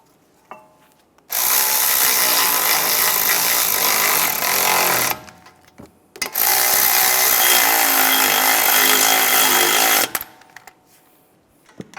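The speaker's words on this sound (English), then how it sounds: "Now put the bracket on. Get the bolts started." A power tool drives the front brake bracket bolts on a 2011-2015 Chevrolet Cruze, giving two loud, sustained buzzing-rattling runs of about four seconds each, separated by a short pause, with no speech.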